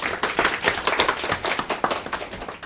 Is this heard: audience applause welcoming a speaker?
yes